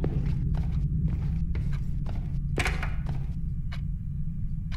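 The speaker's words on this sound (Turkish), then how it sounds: "Ayak sesleri duydum." Footsteps in the horror video game Blame Him, a series of soft, evenly spaced thuds over a steady low rumble, with one sharper knock partway through and no talking.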